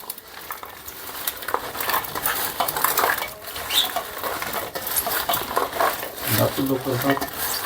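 Ajwain and salt being mixed by hand in a pot, with repeated clinks and scrapes of utensil on metal and some clattering, moderately loud and close, under light background noise.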